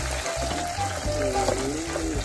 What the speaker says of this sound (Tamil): நம்ம வச்சிருக்கிற 3 வரமிளகாய் போட்டு அப்படியே ஒரு கிண்டிட்டு உடனே ஆனியன் சேர்த்துக்கலாம்